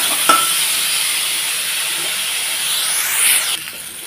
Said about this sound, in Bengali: সুন্দর করে লাল করে ভেজে নেব